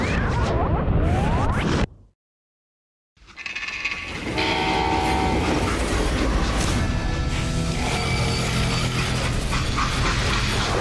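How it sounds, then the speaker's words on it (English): Freight train rolling along in the video game Call of Juarez: Gunslinger, a loud steady rumble of wagons that cuts out briefly to silence, then resumes with metallic rattling and ringing tones, with no talk. "how'd they stop this train in the first place?"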